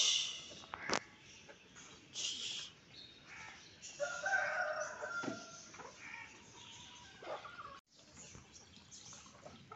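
A rooster crows among a backyard chicken colony near a water dish, the loud calls rising over scattered clucks, bird chatter and outdoor background noise, with no talk.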